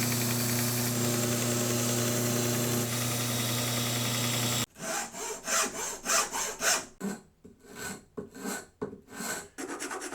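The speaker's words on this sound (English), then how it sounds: "if you have access to power tools, such as a 1-inch strip sander like I have here," A 1-inch belt strip sander hums steadily at first, then switches to rhythmic rasping strokes as wood is ground against the belt, close and loud.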